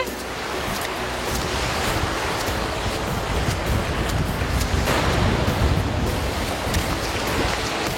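Ocean surf on Coronado beach in Panama, a continuous loud wash of breaking waves heard up close with wind buffeting the microphone and no talking.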